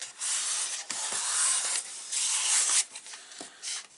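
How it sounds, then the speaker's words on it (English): Paper burnished down along a crease with a tool: close, dry rubbing strokes that hiss and scrape in several bursts, with short pauses in between and no voices. "And then we can give that a burnish down."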